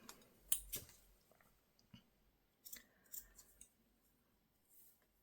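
Scissors snip thin lace pieces for a paper craft, a few quiet, close clicks and slices spaced unevenly over a near-silent background.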